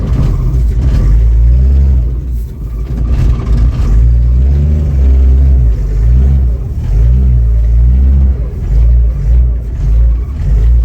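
A 1964 Chevy II Nova engine rumbles steadily as the car drives along with a dragging brake, low and continuous, with a few faint voices beneath.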